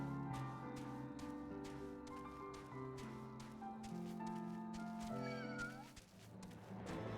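A cat meows repeatedly in the Final Fantasy XIV video game, the cries rising and falling over steady game music with no talk.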